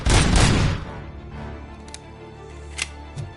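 A short burst of gunfire in RoboCop Rogue City, loud and dense for under a second, followed by quieter clatter and a few sharp, isolated impacts as boxes are shot.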